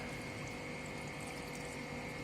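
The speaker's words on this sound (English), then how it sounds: "now I am adding in water for the cleaning purpose of the sand" Water running steadily into a container of sand for a clay content test, a continuous even pouring and pumping wash heard close with no talk.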